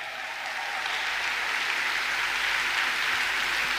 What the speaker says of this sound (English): One more round of applause for women in tech.